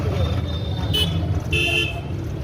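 Busy morning road traffic in an Indian city hums steadily while car horns toot twice in short bursts, with faint voices underneath.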